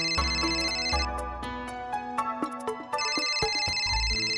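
A mobile phone rings with a bright, repeating electronic melody that pauses briefly in the middle and then resumes, loud and close indoors with no talking.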